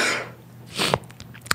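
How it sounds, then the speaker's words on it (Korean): A single sharp sneeze bursts out near the mic during a Korean clan-battle game broadcast, with a quick intake of breath before it and a short second burst after, over a faint hum. "터졌네요, 제가 재채기가"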